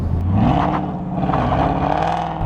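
Supercharged 670 hp 2017 Ford Mustang V8 revving hard, a loud, close, continuous engine roar with rising and falling pitch, no talk.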